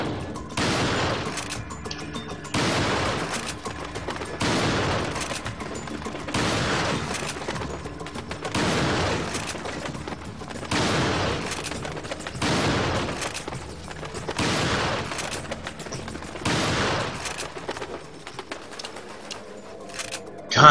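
Gunfire from a bigger gun in the video game Resident Evil 4 booms out in regular, evenly spaced heavy blasts, about nine over twenty seconds, each loud and broadband with short gaps between, over a faint game backdrop.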